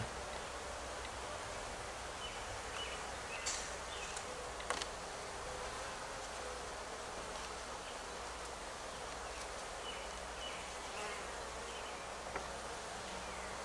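Honeybees buzzing around a new hive set up after an emergency split, a soft, continuous outdoor drone with a few louder passes of individual bees close by.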